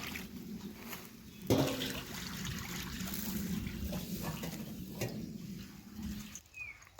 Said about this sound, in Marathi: आता आपण याच्यात पाणी टाकून देतोय